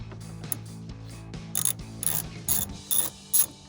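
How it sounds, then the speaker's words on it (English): A ratchet with an extension loosens 10 mm screws on a 2013-2018 RAM 1500 powered heated driver-side mirror, giving short clusters of crisp, close clicking with quiet gaps between them. "now we're gonna go after these 10 millimeter screws"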